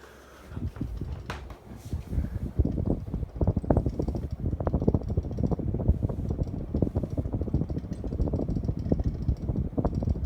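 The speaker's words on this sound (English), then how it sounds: "the spin down on this fan isn't going to be accurate compared to how it was before" A Hunter Coastal Breeze 44-inch ceiling fan in antique brass with a schoolhouse light runs close by, giving a steady soft whir with light rhythmic ticking and rattling over it.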